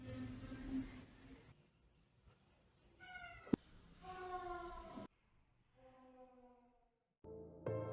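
An electronic cat ball toy going off in a hallway, giving several synthetic meowing tones in separate bursts with pauses between, faint and distant.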